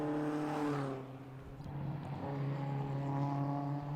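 Several race cars pull away from the grid at the Winton Festival of Speed during a regularity race, engines droning steadily at mid distance with harmonic whine that dips briefly then swells again as the pack accelerates.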